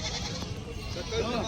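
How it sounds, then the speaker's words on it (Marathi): Large local goats at the Vasmat livestock market in Hingoli district give a brief nasal bleat near the end, partly masked by nearby voices and crowd noise. "उस्मान बाजारामध्ये खूप मोठ्या मापाचे गावरान बकरी आलेले आहेत"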